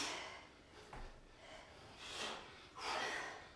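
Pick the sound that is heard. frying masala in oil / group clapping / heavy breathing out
heavy breathing out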